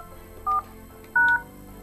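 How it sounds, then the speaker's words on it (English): Office telephone keypad sending DTMF tones while dialing a number: two short, clear electronic beeps, the second a little longer, over a quiet background. "And then I'll just dial the number that I parked it against."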